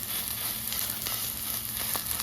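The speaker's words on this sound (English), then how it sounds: "we're going to cook our sausage for our grilled cheese" A sausage patty sizzles steadily in a hot pan as breakfast sandwich filling cooks, a constant close hiss of frying fat with faint crackles and pops scattered throughout.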